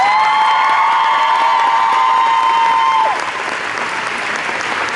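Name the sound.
audience applause at convention panel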